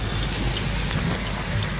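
Heavy monsoon rain pours down at Bhavnath in Junagadh, near forested hills. It makes a dense, steady hiss of drops hitting surfaces, loud and continuous throughout.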